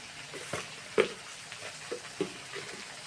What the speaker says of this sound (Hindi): इसको थोड़ा सा भूनेंगे और फिर इसमें टमाटर ऐड कर देंगे।